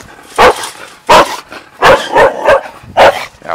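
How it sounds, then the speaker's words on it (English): A pet dog barks in five sharp, loud bursts spaced about half a second to a second apart, close by outdoors near a garden fence, with no talking over it. "Now see you gonna bark when I'm going other side of the fence."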